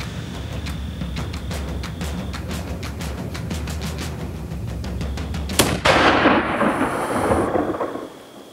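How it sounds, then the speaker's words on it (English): A single loud muzzleloader shot booms out while hunting a ram in canyon country, cutting through steady background wind or rain noise and rolling away in a long fading echo. "I'm shooting a muzzle loader, so I know that I need to make my first shot count."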